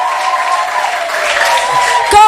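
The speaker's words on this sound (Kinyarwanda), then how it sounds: "mukomera amashyi" An audience claps in sustained applause at a gospel music event, a dense patter of many hands under a loud held voice or tone, ending in a brief louder burst.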